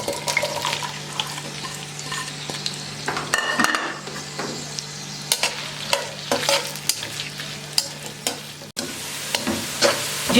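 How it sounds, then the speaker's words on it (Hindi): Three large onions fry in hot oil in a pan until golden, a constant close sizzle broken by repeated stirring scrapes and clanks, with a faint steady hum underneath and no speech. "प्याज को हमने अच्छे से गोल्डन होने तक फ्राई कर लिया है।"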